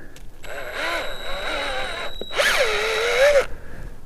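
A drill boring a tap hole into a maple tree outdoors at an off-grid cabin, two sustained whining runs of the motor with a brief pause between, close and loud.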